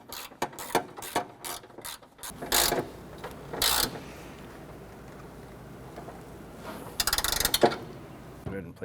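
Ratchet wrench tightening a battery tray bolt on a 1994–2004 Chevrolet S-10 gives quick bursts of close, dry clicking, several short runs of pawl ticks separated by pauses.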